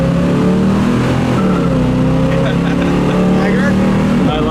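A 1971 Chevrolet Nova SS engine pulls hard and loud up close, its revs rising and dropping through quick gear shifts in a sustained roar.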